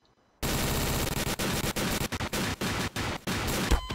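Rapid automatic gunfire from a weapon in Garry's Mod, loud and close, coming in long sustained bursts broken by short gaps.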